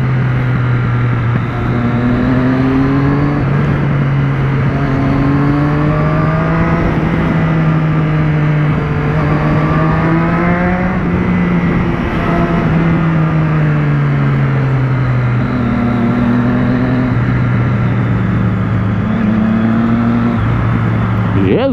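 Loud, continuous engine drone from a Triumph Street Triple 675R motorcycle moving through heavy city traffic in Florianópolis, its pitch rising and falling with throttle changes as it creeps and accelerates between cars, with no speech over it.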